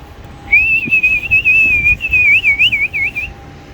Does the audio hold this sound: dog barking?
no